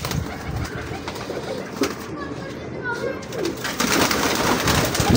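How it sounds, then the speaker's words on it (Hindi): Pigeons coo repeatedly at a loft of fancy flying pigeons, soft throaty calls rising and falling over steady outdoor background noise, with occasional voices and movement nearby. "शानदार कबूतर है यहाँ"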